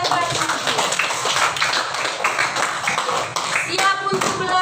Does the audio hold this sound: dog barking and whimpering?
no